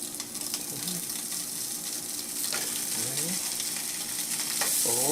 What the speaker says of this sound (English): we're going to start frying these up now